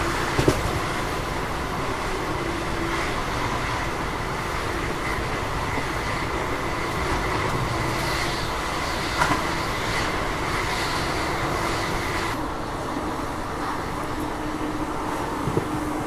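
The Malabar Express, running from Thiruvananthapuram to Mangaluru, rolls along with a steady, continuous rumble and rail clatter heard from on board, even and moderately loud throughout.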